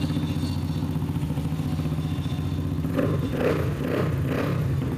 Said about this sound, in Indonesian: Oke, motornya nyala kembali.